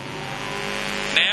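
Junior sedan race car on a speedway's main straightaway, a steady engine drone holding throughout at moderate distance, with a brief higher whine near the end and crowd or commentary texture underneath.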